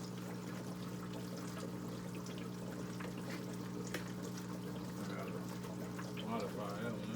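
Water drips and trickles into a hydroponic drip system, a faint, thin patter over a constant low mechanical hum, quiet and continuous throughout.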